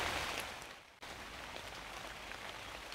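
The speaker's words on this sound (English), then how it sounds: "You can hear rain." Game rain ambience from the Serene Scene coding game hisses steadily as a dense, even wash of rainfall, briefly dipping near the start before resuming at a constant level.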